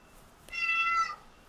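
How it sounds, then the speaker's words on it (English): A pet cat lets out one loud, drawn-out meow, a whiny yell lasting about half a second, close by against a quiet room. "Sorry if you hear my cat yelling at me."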